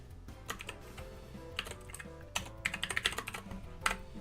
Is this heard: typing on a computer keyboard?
yes